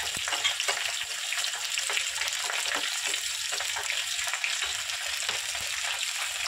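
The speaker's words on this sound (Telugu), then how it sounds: "ఇదిగోండి ఫ్రై అవుతుంది కదా" Mustard seeds, cumin, urad dal and crushed unpeeled garlic sizzle in hot oil for a tempering, a steady close-up crackle and hiss with small pops and occasional stirring, no voices.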